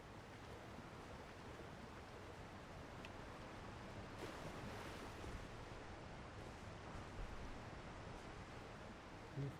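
Broad, steady rushing water from a waterfall in Elden Ring's DLC lands, a continuous wash of noise at moderate level throughout, with no speech.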